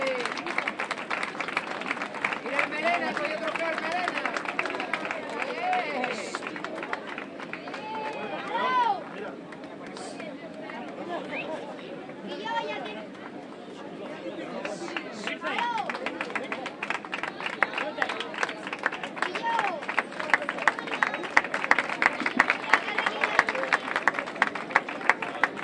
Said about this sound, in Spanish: Fuerte aplauso para ellos tres.